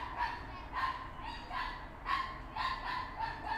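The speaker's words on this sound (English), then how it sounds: "There is dogs who is that loud outside." Dogs bark loudly outside, about half a dozen sharp, repeated barks in quick bursts, heard from indoors.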